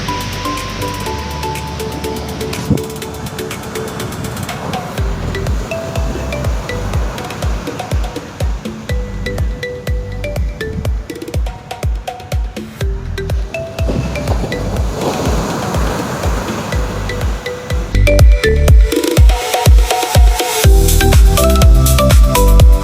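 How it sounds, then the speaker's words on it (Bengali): Sea waves crash and roll on Kollam beach in Kerala, a loud, continuous roar of surf with rising and falling surges that swell stronger toward the end. "তোমরা আওয়াজ শুনতেই পাচ্ছ, সমুদ্রের ঢেউর কত আওয়াজ"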